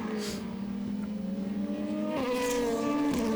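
DTM race cars at Zandvoort in the 2018 race, with a loud engine note climbing steadily through the gears, sharp shifts, and a second car's whine layered in, heard close from trackside.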